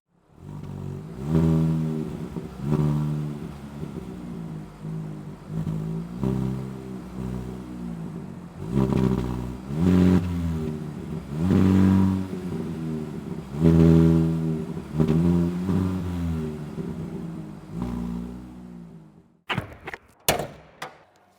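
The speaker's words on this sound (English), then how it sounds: "It has a bit of that rumbling noise when you just push the throttle." A 2024 Nissan Sentra SR with a 2-liter naturally aspirated inline-four rumbles and revs repeatedly as the throttle is pushed, a steady loud engine drone rising and falling several times before a few sharp knocks at the end.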